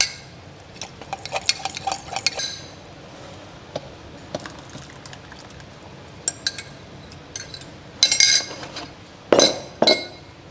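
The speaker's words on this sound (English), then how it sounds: "And then just chuck some flour in. Oops, that'll do. Then whisk it up and then pop it back in." A whisk clinks rapidly against a pot as flour is beaten into stock, bursts of metallic tapping and rattling over a quiet background, loudest near the end.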